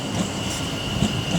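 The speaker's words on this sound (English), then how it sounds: "Working the 1832 Avanti West Coast service to Holyhead, coming in about half an hour late." An Avanti West Coast passenger train bound for Holyhead runs into Stafford station on the West Coast Main Line, a loud, close, continuous rumble of wheels on track with a faint high squeal.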